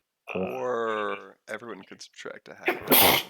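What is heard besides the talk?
sneeze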